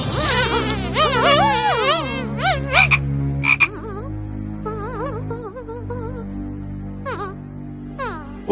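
Cartoon frogs croak in a loud, rapid chorus of warbling calls that repeat through the scene, with buzzy insect-like tones and brief pauses between bursts.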